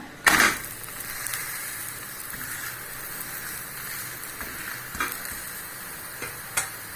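A moringa leaf dosa sizzles steadily on a hot pan after a sharp scrape as it is flipped, followed by faint crackling and a few light taps.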